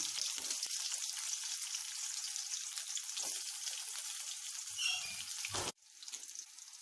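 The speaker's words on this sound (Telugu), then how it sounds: "కొద్దిగా వేడెక్కాక అందులోకి ఆనియన్స్ వేయాలి." Onions and green chillies frying in hot oil for upma give a continuous soft sizzle with faint crackles, ending in a brief clunk before the hiss quietens.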